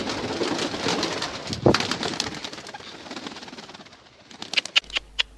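Pigeons coo and murmur against a busy, rustling background, with a few sharp clicks and taps toward the end.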